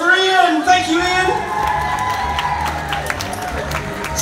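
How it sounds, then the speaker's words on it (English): Audience at a Pontins Southport holiday camp science magic show cheers and applauds for a volunteer named Ian, a loud crowd burst with whoops and children's shouts that stays steady throughout, with a voice talking over the noise. "Let's have a huge round of applause for Ian!"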